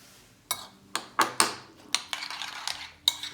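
A spoon stirs a sauce of mayonnaise and sour pickle brine in a bowl, giving a series of sharp, close clinks and scrapes against the dish at an uneven rhythm, about eight distinct knocks.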